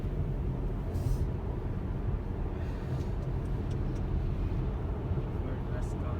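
Tesla Model S P100D rolling along in Ludicrous Plus mode, a steady broadband road and cabin rumble with tire noise, continuous and fairly loud from inside the car.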